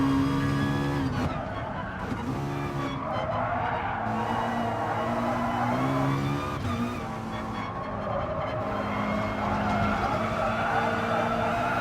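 Race car engines in GT Sport, a Brazilian circuit round of the Manufacturer Series, whine and shift through corners near a hairpin, with repeated tire skids and squeals over a constant loud engine drone.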